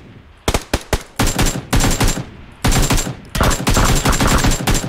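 In PUBG Lite, loud automatic gunfire comes in rapid bursts, first a few single shots and then long sustained volleys of fire with brief gaps between them.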